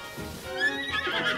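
A horse in the Zelda: Tears of the Kingdom video game neighs in one loud, rising whinny lasting about a second, with a hint of hoof clip-clop beneath and no talk.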